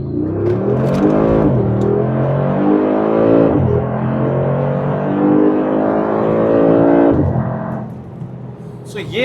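A 2020 Mercedes-AMG G63 with a biturbo V8 pulls hard from first gear, its engine note rising loud and close through gear changes with brief dips near 1.5, 3.5 and 7 seconds before easing off at the end.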